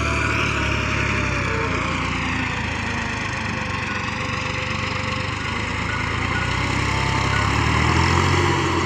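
A tractor hauling a loaded trolley of fill earth rumbles and rattles steadily close by, a continuous engine drone without talk.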